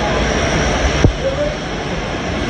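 Airplane landing at an international airport, with a steady loud engine roar and a brief louder swell midway, along with faint background voices.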